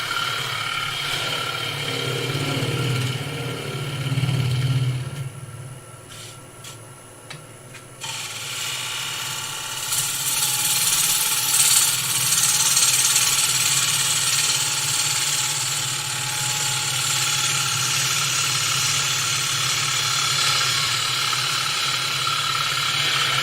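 A wood turning tool cuts shavings from a bowl on a lathe: a steady rough scraping hiss over a low motor drone, changing character midway and then continuing as a brighter, even cutting noise.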